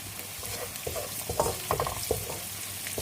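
Chicken frying in a pan with tamarind slices and white pepper for Javanese feast-style soy sauce chicken, a steady broadband sizzle with a few stirring scrapes and clinks, no talk.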